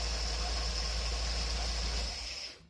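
Steady, close engine idle from a car fitted with a Quick Fuel four-corner idle carburetor, with a smooth low rumble and a constant hiss that fade slightly as it winds down at the end.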